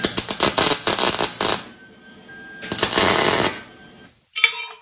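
Tack welding steel tubes for a crosskart light bar produces two loud bursts of sharp crackling sizzle, each lasting over a second, separated by near silence. A brief metallic clatter follows at the end.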